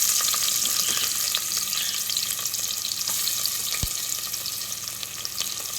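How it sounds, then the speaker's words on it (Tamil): Onions sizzle and crackle steadily in hot oil while making Hariyali chicken, a dense continuous frying hiss with occasional pops and a faint stirring scrape. "ஆட் பண்ணி நல்லா வதக்கி கொடுத்துடலாம்"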